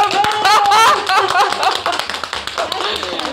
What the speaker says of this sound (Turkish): O zaman şöyle yapalım, Güngören Belediyesi'ni alkışlayalım.